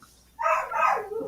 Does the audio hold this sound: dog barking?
yes